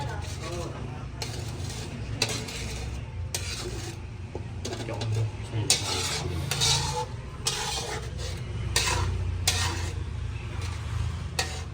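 Lechon paksiw being stirred in a pan, with repeated clanks and scrapes of a utensil against metal over a low sizzle and a background hum.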